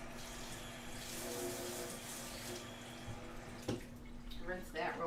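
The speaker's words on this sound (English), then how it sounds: "rinse that real quick." Tap water runs steadily over a kitchen utensil being rinsed, a continuous splashing hiss with a brief clatter near the end.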